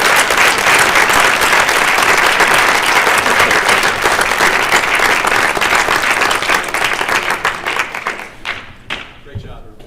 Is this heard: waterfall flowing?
no